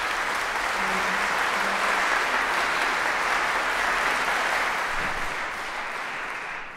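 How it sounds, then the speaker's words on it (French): Sustained applause from a large crowd, dense and even, fading slightly toward the end. "je vous prie de recevoir ces acclamations"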